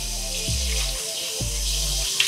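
A tap runs steadily during face washing at a bathroom sink, with a continuous close rush of water and a few low knocks.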